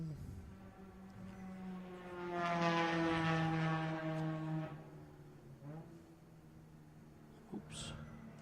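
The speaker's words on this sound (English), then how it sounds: "the RX-7 sounds like an airplane going by" A Mazda RX-7 race car at a Willow Springs endurance race swelling to a loud, droning engine note as it passes and fades, with a strongly tonal, airplane-like rotary whine and faint background noise.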